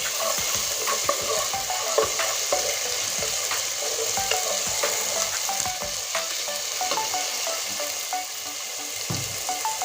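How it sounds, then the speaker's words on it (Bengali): Onion and garlic paste fry together in a pan for a Bengali pakal fish and potato curry, making a continuous loud sizzle broken by frequent clattering stirs and scrapes. "পেঁয়াজ আর রসুন একসঙ্গে ভেজে নেব"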